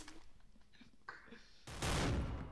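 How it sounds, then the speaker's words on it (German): Gunfire shot through a wall in the online shooter Special Force 2: a brief loud volley bursts out near the end after quiet, muffled background noise. "Aber mit der Scheiße durch die Wand zu schießen."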